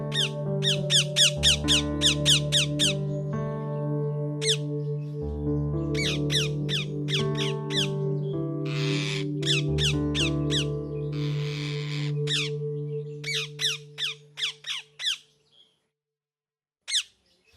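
A cartoon parrot in a Hindi children's animation lets out rapid bursts of shrill squawks and squeaks over a steady low musical drone, pausing between volleys, before a final scattered few calls fade out.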